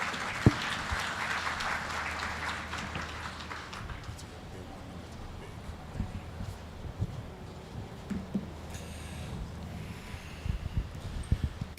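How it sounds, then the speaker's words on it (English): Audience applause at an event honoring Herbert Wigwe starts as a dense burst of clapping, then thins into scattered claps and crowd murmur. "another round of applause"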